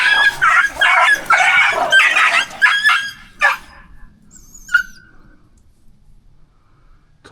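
A pack of dogs in the Thai jungle bark and snarl aggressively in loud, rapid overlapping bursts, then go quiet apart from one distant yelp.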